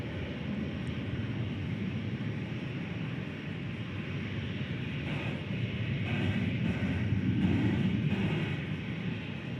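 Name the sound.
American Airlines flight 1811 aircraft departing DFW Airport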